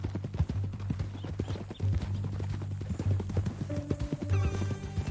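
Horse hooves clip-clop at a steady walking rhythm in Red Dead Redemption 2, clear and continuous over a low ambient hum, with a faint musical tone near the end.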